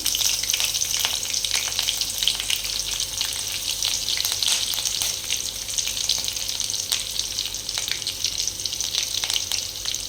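Green chillies and curry leaves crackle and sizzle steadily in hot oil with cumin seeds as tempering for a tomato egg curry, a loud, continuous frying hiss with scattered pops and no talking.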